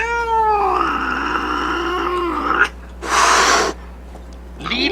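Kittens cry loudly up close with drawn-out, wavering meows. A sharp hissing burst follows, then another brief cry starts at the end.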